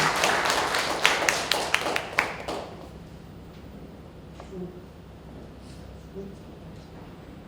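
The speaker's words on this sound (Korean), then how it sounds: "박수로 맞이해 주십시오." Applause welcomes performers at a book concert, several seconds of close clapping that fades out and gives way to a quiet room with faint stray sounds.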